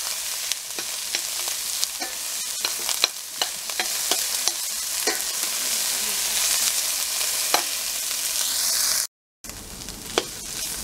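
Onions fry in a pan for a rice pilaf, a continuous bright sizzle broken by frequent scraping clicks of stirring, with a brief silent gap near the end.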